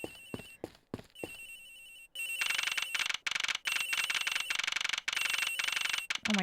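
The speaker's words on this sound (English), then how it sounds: "The ringing's coming from somewhere in here" A telephone rings insistently in the Ace Attorney Investigations video game, a loud, bright electronic bell trilling in repeated bursts with brief gaps, after a few sharp clicks at the start.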